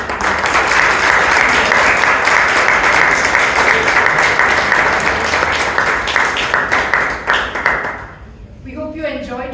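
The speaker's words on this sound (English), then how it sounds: "Members, can we please welcome them with a thunderous round of applause?" A thunderous round of applause welcoming guests at a Toastmasters meeting in Bangalore: many hands clapping loudly and continuously for about eight seconds, tapering off as a voice begins speaking.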